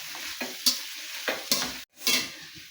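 Tomato pieces frying and being stirred in a pan for chicken macaroni, close-up sizzling with several scraping stir strokes in an irregular rhythm, quiet overall, with no talking.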